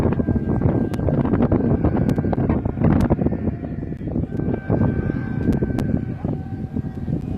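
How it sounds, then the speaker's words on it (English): Loud, steady wind buffeting the microphone at an outdoor amateur American football game in England, a constant low roar with gusty surges throughout. "Very windy up here."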